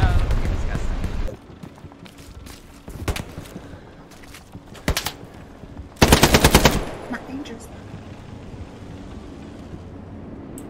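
Bursts of machine-gun fire in the World War II shooter game Hell Let Loose, rapid sustained volleys that are loudest in one long burst, with players talking over the gunfire and surrounding battle noise.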